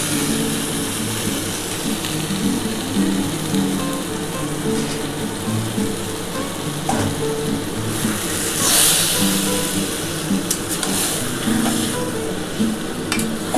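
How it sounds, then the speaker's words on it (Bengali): Yogurt-marinated chicken being stirred into sizzling fried spice paste for a chicken curry cooked with goat fat; a steady frying hiss runs throughout, with scraping and stirring noises rising and falling, and no voices. "ভালো করে মশলাটার সাথে চিকেনটা ভালো করে মাখাতে হবে"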